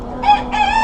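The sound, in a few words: rooster crowing on farm ride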